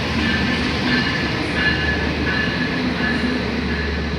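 The Gaya Baru Malam Selatan train rumbles steadily close by, with a constant low roar and faint metallic clatter from the wheels as it rolls into Kroya station, Indonesia.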